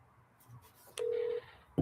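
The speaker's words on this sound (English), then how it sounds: "But we'll give her a call if they answer." Dialing a phone to place a call makes a short series of touch-tone beeps, with one clear sustained tone standing out, quiet and close in an otherwise hushed room.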